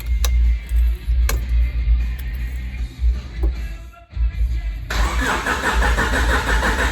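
A barn-find Honda Civic EK9 Type R engine cranks loudly and rhythmically without catching, with a brief dropout partway through, then a harsher, brighter churning as it keeps turning over.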